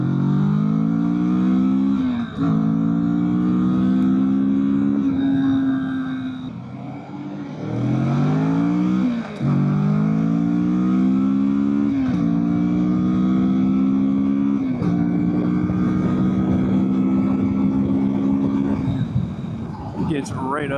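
Kawasaki Vulcan S cruiser motorcycle accelerating hard through several gears up to highway speed, each rising engine whine cut by a brief dip at the shift, loud and close with steady wind noise throughout.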